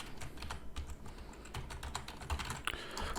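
Keystrokes from typing NetLogo code on a computer keyboard: a rapid, uneven run of light clicks and taps, close and fairly quiet, with no voice over them.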